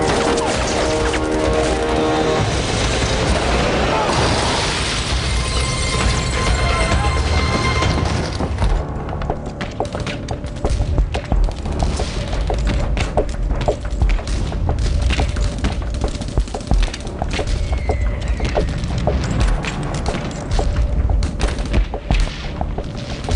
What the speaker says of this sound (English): Jim hears the sound of heavy gunfire from behind the cabin.